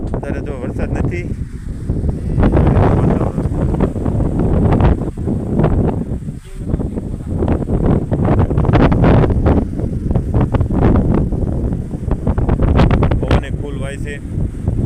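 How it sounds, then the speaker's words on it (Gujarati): Strong, gusty wind buffets the microphone outdoors in rural Gujarat just before rain, roaring in near, continuous surges with brief lulls. "વરસાદનો જ પવન છે"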